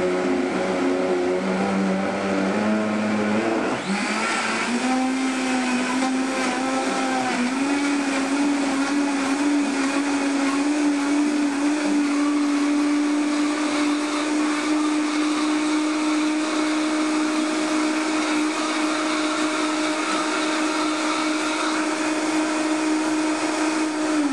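A juicer motor pressing carrots runs with a loud continuous whine that kicks up sharply in pitch and power after a few seconds, then holds steady and close without talking.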